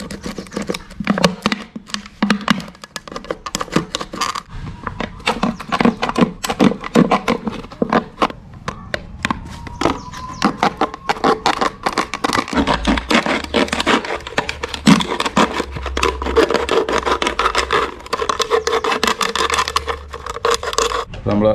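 Plastic bottle being cut into strips for a homemade broom, with rapid crisp snipping and scraping close by, running under steady talking throughout.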